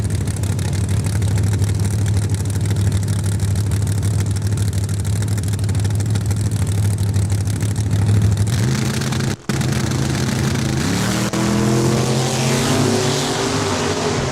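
Drag race cars, one a Chevelle, run side by side at Saskatchewan International Raceway. A loud, steady engine drone holds, then the pitch climbs and layers as they accelerate away, with no voices.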